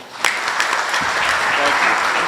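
An audience at the grand opening of a veterans affairs office in a senior center applauds Governor Phil Murphy, a loud, dense burst of clapping that swells quickly and holds steady.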